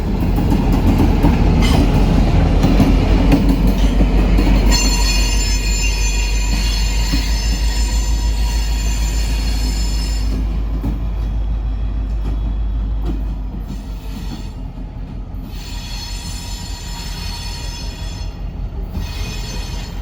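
A CSX freight train, W243, rolls around a curve into Welcome Yard, a loud, close rumble of rail cars with high, sustained wheel squeal that eases after several seconds into steadier clanking and rolling noise.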